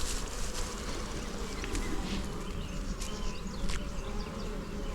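Honeybees humming inside a hive box, a steady dense buzz that carries throughout with a few individual bees flying close past.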